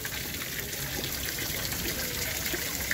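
Water trickles and splashes steadily in a park pond or fountain, a soft continuous hiss with faint droplets, heard at moderate distance without speech.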